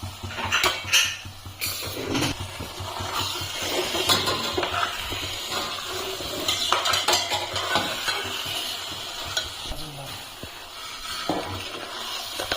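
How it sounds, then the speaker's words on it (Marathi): Vegetables for pav bhaji stirred while frying in a pan, close repeated scraping and clattering of a spoon against metal over a continuous sizzle, lasting throughout. "थोडी भाजी टाकून घेते याच्यात"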